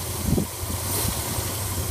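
A classic car engine fitted with a Holley 4-barrel carburetor idles steadily at close range, a low, even rumble with faint vibration and no voices over it.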